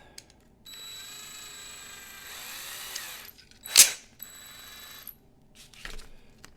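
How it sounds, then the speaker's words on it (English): Small die-cast toy car axles spin in a power drill while being sanded with 220 sandpaper, a steady high whine in two runs with a brief loud scrape between them, close and alone. "So I'll put the axles in the drill and give them a little sanding and clean up."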